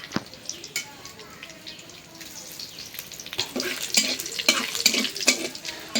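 Dried red chilies, torn by hand, frying in hot oil in a home kitchen pan, sizzling softly at first and then growing louder and crackly with stirring clatter and short bursts toward the end.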